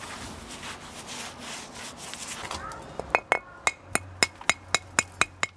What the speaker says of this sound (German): Beim Klopfen weiß er genau, wie viel Kraft es braucht, damit der Stein nicht an der falschen Stelle bricht.